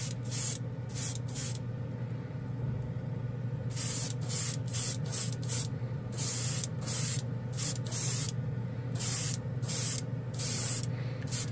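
An airbrush sprays chrome marker ink onto a white spoon in short, repeated hissing bursts separated by brief pauses, close and steady, with no talking.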